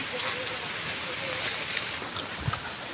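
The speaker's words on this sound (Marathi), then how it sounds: "तर काही तुम्हाला नदीचं पाणी इथलं पण दाखवतो बघा, धरणातनं पाणी येते सर्व" A river swollen by water released from a dam rushes past in a steady broadband roar, with wind buffeting the microphone and no clear voices.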